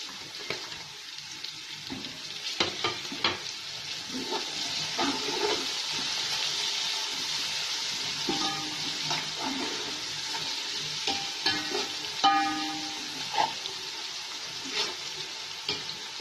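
Onions frying in a pan for aloo methi give a continuous close hiss and crackle, with scattered stirring knocks throughout.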